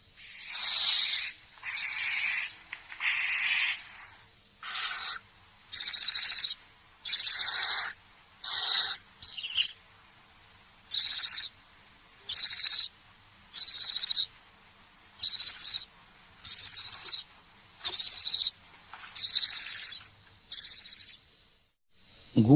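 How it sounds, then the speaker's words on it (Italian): A barn owl gives a long series of harsh, hissing screeches, each lasting about a second and repeated rhythmically with short gaps, moderately loud and close, with no talk over them. "Barbagianni."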